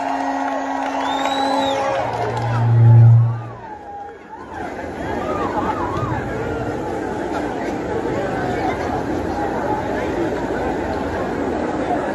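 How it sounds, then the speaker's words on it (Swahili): Crowd at an event welcoming Kenya's Deputy President, a broad roar of cheering, chatter and ululation that swells briefly near the start then settles into a continuous lively hubbub. "Wapi makofi, shangwe na vigelegele za Mheshimiwa Naibu wa Rais?"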